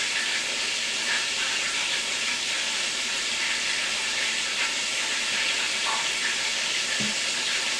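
A steady, even sizzle and hiss of chicken breast frying in hot oil continues throughout, close and unbroken, with no voices.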